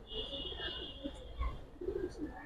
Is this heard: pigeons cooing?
yes